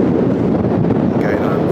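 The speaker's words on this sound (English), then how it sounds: "I'm very sorry for the wind, but you can see from the white water just how windy it is." Strong coastal wind buffets the microphone at High Down on the Isle of Wight, a loud, rumbling low-frequency roar that fills the short clip without a break.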